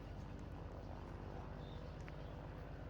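A plane flies in the Roblox game, a faint, steady engine drone with a low, even hum and no break.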